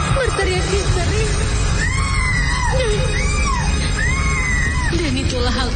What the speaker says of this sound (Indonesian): kulihat sosok wanita menyeramkan itu berteriak histeris